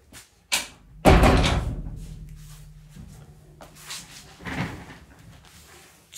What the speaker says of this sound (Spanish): perdón un segundito que cierro la puerta.